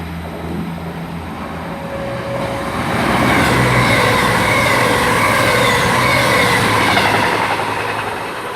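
A Class 221 Voyager train passes through Highbridge station at moderate speed, its rumble and wheel noise swelling loud and close midway and holding as the carriages roll by, with a faint tonal hum early on and no talk.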